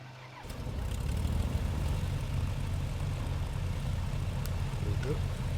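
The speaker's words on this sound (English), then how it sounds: "right engine start as always" A BN2 Islander's engine starts in Microsoft Flight Simulator 2020: after a short quiet start, a steady low rumbling engine drone builds and holds, with faint speech in the background.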